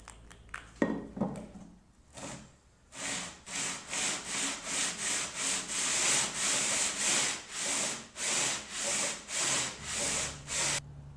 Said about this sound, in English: radius the neck using my beam.